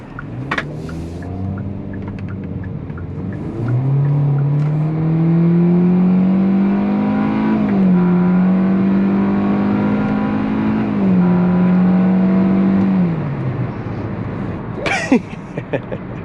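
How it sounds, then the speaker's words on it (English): A rental car with a small four-cylinder and CVT, in sport mode, accelerates with a steady droning engine note that holds and climbs in long flat stretches, close and loud inside the cabin, with brief talk around it. "That is a CVT and a small 4-cylinder"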